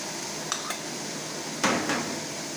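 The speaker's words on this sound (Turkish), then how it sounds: "Soğanlarımızı böyle döküyoruz." Chopped onions poured into a pan for cooking oyster mushrooms, a soft sizzle under quiet clinks, then a louder rush and scrape as they land, close by.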